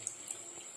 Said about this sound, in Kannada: ಸ್ವಲ್ಪ ಜಾಸ್ತಿ ನೀರು ಹಾಕ್ಕೊಳ್ಳೋಣ